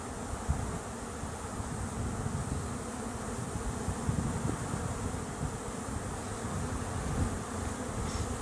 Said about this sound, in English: Look at all those fuzzy little bees.